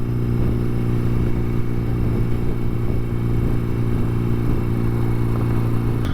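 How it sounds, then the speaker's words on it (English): A motorcycle engine drones loud and close throughout, a steady low rumble with no clear rise or fade and no talk over it. "here comes a bike flying past"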